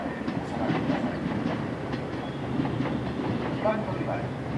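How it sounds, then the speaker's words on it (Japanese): A JR 117 series train pulls into Gobo Station on the Kinokuni Line, its steady wheel rumble and clickety-clack rolling along the platform under a continuous hum, with a voice faintly present. "2番乗り場に列車が入ります。"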